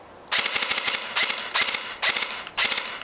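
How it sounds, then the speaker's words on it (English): An electric airsoft rifle set to three-round bursts and semi-auto fires five sharp, rapid bursts in quick succession. Each burst is loud and close, with a mechanical rattle and short gaps of near silence between them. "I run all 3-round bursts on all my guns because I don't like to go full auto"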